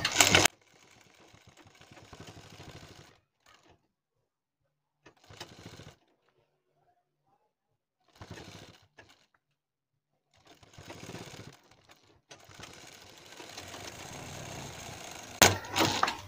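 A sewing machine stitches a patch onto a dress sleeve in several separate runs, each a steady close whirring hum broken by quiet gaps, with no talking.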